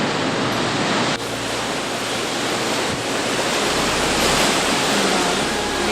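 Ocean waves wash steadily against a rocky shore on Cape Breton Island, Nova Scotia, a continuous loud broadband roar of surf and spray with slight swells in intensity and no talking.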